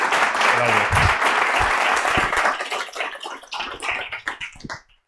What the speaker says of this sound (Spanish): les pido un caluroso aplauso para Juan Ramón